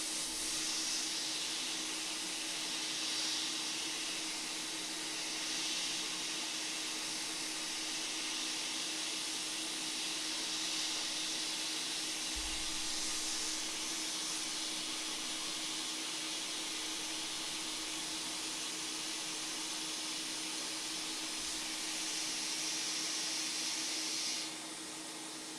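Hot air blowing under a MacBook logic board during repair, a steady hiss that holds evenly for about 25 seconds before cutting off near the end, with a few faint low knocks and no talk.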